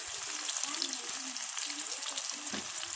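Onions frying in hot oil in a pot on a wood-fired stove give a close, steady sizzle with crackles and stirring scrapes throughout.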